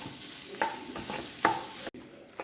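Prawns with shallots sizzle steadily as they are stir-fried and roasted in a pan, with a few sharp scraping strokes of a spatula and a brief pause near the end.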